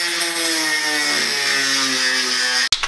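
Power tool cutting out car body metal, a continuous harsh grinding whine lasting nearly three seconds, close and loud, cutting off abruptly at the end.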